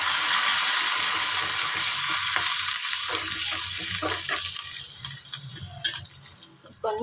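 Curry leaves crackle and sizzle in hot oil for a berry pickle, a dense hiss at first that thins toward the end, with some stirring clicks nearby.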